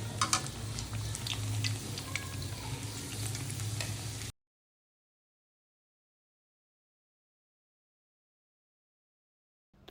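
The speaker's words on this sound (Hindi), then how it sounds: "और इसी तरह से बाकी के पीसेस भी फ्राई कर लूँगी।" Bread pakora pieces fry in hot oil with a steady, busy sizzle and crackle for about four seconds, then stop abruptly into silence.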